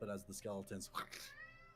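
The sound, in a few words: cat meowing in the room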